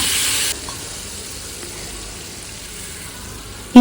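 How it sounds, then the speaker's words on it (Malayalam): Tamarind water poured into a hot pan while cooking puli sadham, giving a brief loud sizzle at first that quickly settles into a faint, steady simmering hiss, ending with a sudden sharp clatter. "ഇനി നമ്മൾ നേരത്തെ പിഴിഞ്ഞു വെച്ചിരിക്കുന്ന പുളിവെള്ളം ചേർത്ത് കൊടുക്കുക"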